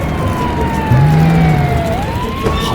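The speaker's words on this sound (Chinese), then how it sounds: "消防车出击！" A cartoon fire truck siren wails in a single long rising and falling tone over a background engine rumble, loud and close, with no talking.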